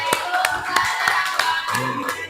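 A small audience claps by hand after a classroom group presentation, a few sparse, uneven claps over a murmur of voices in the room.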